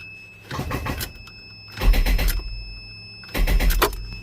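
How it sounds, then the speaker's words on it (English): A 93-97 Camaro/Firebird with an LT1 engine cranking three times without firing, each burst of rhythmic starter whirring lasting about a second, close and loud with pauses between. "Let's see if she cranks."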